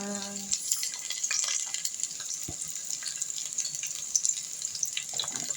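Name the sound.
garlic and onion frying in hot oil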